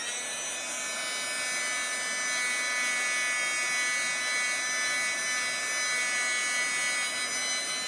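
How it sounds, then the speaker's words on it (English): A heat gun warms a resin surface, giving a steady, continuous loud whirring hiss of fan and air at close range, without a break. "If you don't have one of those, then use a handy dandy heat gun."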